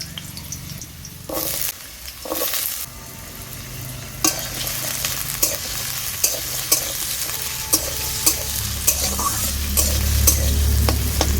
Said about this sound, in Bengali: তেল গরম হয়ে গেছে, আলুগুলো দিয়ে দিচ্ছি।